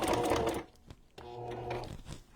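A sewing machine stitches through a rescued-trash junk journal cover, running in a steady loud whir for about half a second, pausing, then resuming with an even mechanical hum until it stops.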